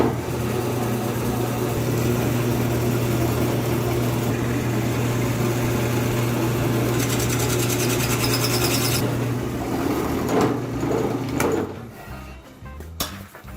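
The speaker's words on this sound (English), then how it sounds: "We're going to cut some face grain half-inch plugs out of this chunk of cherry I got left over from another project." A drill press runs steadily with a half-inch plug cutter boring face-grain plugs from a leftover chunk of cherry, a constant motor hum and grinding rasp for about eleven seconds, then spinning down.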